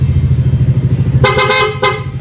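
A car horn honks in two bursts, a longer blare then a short toot, loud and close over a low idling engine rumble.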